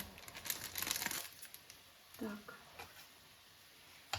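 Soft crinkling of a small paper packet of vanilla sugar, a few rustling bursts close by, with a brief voice sounding partway through.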